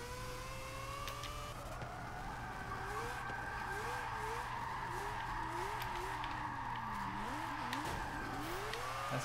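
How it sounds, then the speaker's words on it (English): Tires squeal and slide in long wavering screeches over a constant engine drone, a car drifting in the racing game Forza Motorsport 7. "That's how you drift, guys."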